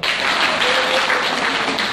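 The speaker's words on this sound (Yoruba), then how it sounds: "ẹ pàtẹ́wọ́ fún mi" A crowd at a market women's meeting in Abeokuta, Ogun State, claps loudly and continuously, a dense close wash of applause lasting the whole moment.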